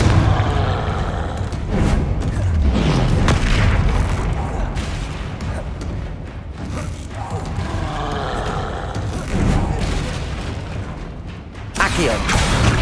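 Fire-blasting spells in a Hogwarts Legacy battle against a troll go off in a string of heavy, booming explosions, loud and dense, with a player shouting spell names over the combat.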